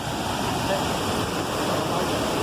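A forest waterfall in the Amazon at Presidente Figueiredo pours in a loud, dense, continuous roar, steady and close with no breaks.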